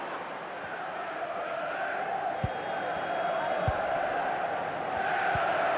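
Stadium crowd noise in the EA Sports FC Mobile football game, a steady, loud roar of massed fans that builds slightly toward the end, with a few soft thumps under it.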